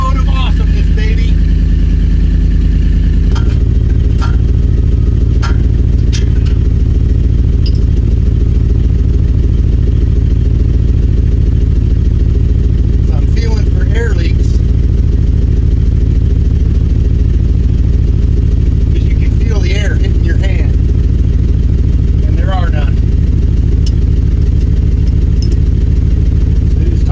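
A truck fitted with an MBRP dump exhaust runs steadily, giving a loud, continuous, low engine drone close to the microphone, with faint clicks and voices now and then over the top.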